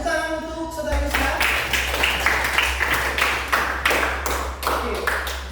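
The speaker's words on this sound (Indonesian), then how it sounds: "Tepuk tangan untuk saudara Gusna." Students in a classroom clap for a fellow student, giving several seconds of steady, fairly close applause. A voice is heard briefly at the start.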